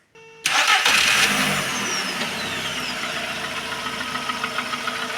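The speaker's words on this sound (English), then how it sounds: "So leave everything the same and start the engine." A car engine cranks and fires after a moment of quiet, roars briefly, then settles into a steady idle, heard close up with no talk.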